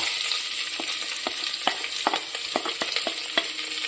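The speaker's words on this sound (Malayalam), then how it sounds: "സവാളയും പച്ചമുളകും നല്ല പോലെ ഗോൾഡൻ കളർ ആകുന്നവരൊന്ന് വഴറ്റിയെടുക്കണേ" Onion and green chilli sauté in oil inside a pressure cooker for prawn biryani, with a steady close sizzle broken by light scraping stirs.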